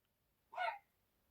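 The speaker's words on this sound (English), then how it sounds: "excuse the dog, she's outside barking" A dog barks once outside a shut door, a single short, fairly faint bark with quiet around it.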